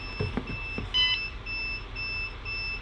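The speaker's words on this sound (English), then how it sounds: "Now the battery meter is actually alarming, and things are starting to shut down." An RV lithium battery meter (GoKwh 100Ah battery) sounding its low-voltage alarm: a repeating electronic beep, short bright tones pulsing at a steady rhythm over faint background noise.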